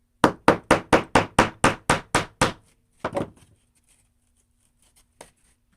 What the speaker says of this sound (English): On my hammer, cover your ears.